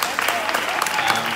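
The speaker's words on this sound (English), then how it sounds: "Let's get a round of applause for them." Brief burst of audience applause at a talk with Alok Vaid-Menon, dense clapping heard throughout with some voices mixed in.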